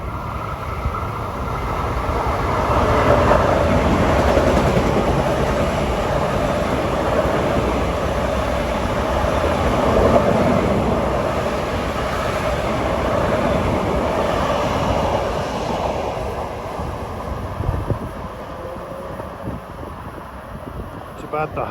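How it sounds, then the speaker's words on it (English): Eastbound Long Island Rail Road commuter train 2066, New York to Ronkonkoma, passing at rush hour near Jamaica/Hollis: a steady rumbling roar sustained throughout with wind buffeting the microphone, fading slightly toward the end. "About the hottest rush hour train going to Ronkonkoma these days"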